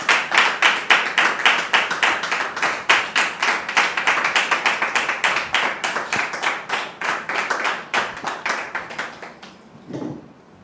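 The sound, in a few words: audience applause welcoming guest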